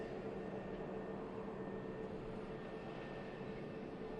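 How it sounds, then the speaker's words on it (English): An NBA special Airbus A380 on short final to land at Manchester Airport makes a continuous, even engine roar at moderate distance, holding steady with no talk over it. "Now on short finals into Manchester. About to touch down on 23 right."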